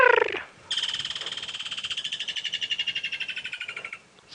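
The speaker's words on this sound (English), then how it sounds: "that was a very loud chirp, Woodland's kingfisher" A woodland kingfisher gives a loud, ringing call on a safari drive in South Africa, opening with a short note and then a long rapid trill of evenly pulsed chirps that slows and fades after about three seconds.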